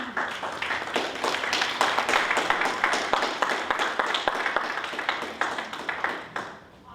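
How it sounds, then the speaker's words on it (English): An audience at a business panel discussion claps and applauds steadily for several seconds, a dense crowd of hands that tapers off at the end. "So if you guys wouldn't mind giving this panel a big hand clap."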